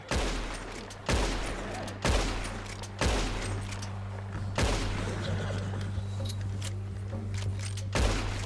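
Gunfire in Red Dead Redemption 2 during a bear encounter: a series of sharp, loud shots roughly one second apart, each ringing out with a booming tail, little talk around them.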